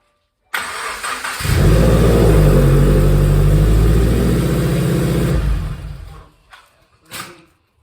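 Rebuilt 2017 Subaru WRX FA20DIT engine cranks and fires, then runs with a loud, steady close-up roar for several seconds before shutting off.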